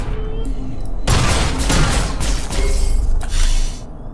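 Loud bursts of gunfire in the video game The Fall, with dense crackling volleys and booming impacts arriving in two or three heavy waves, close and harsh, with no one talking.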